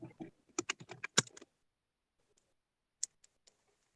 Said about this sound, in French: Il y a quelqu'un qui tape sur son clavier.